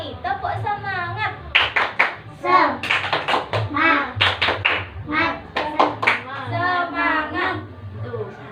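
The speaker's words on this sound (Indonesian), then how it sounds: "Ulangi, tepuk semangat." An elementary class repeats the 'tepuk semangat' rhythmic clapping cheer, clustered group claps in a patterned rhythm alternating with enthusiastic children's chanting and voices throughout.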